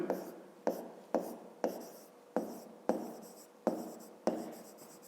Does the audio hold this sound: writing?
yes